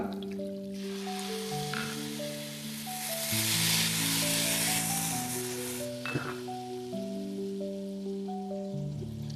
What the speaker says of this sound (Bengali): এখন আমি পরিমাণ মতো জল দিয়ে দেবো দিয়ে দেবো আমি ছয় কাপ জল